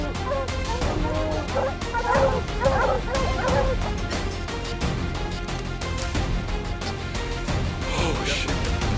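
Hunting dogs in night woods in Tanzania bark and yelp repeatedly, with whimpers mixed in, in a busy overlapping chorus at moderate distance.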